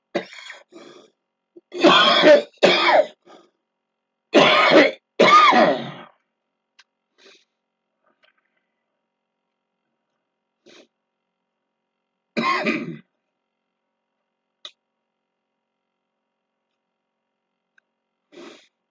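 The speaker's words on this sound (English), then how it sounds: "I'm probably going to cough and may even have to spit up some congestion" A person coughs and clears their throat in several separate bursts, close by, with quiet pauses between them.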